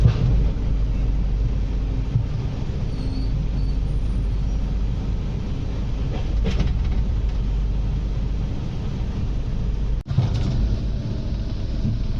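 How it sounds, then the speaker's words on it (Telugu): Train 22647 rolls into Khammam railway station platform 1, a loud, steady low rumble heard from on board, with a couple of brief clanks and no talking. "మన ట్రైన్ అయితే ఇప్పుడే Khammam railway station platform number 1 మీదకి అయితే వస్తుంది"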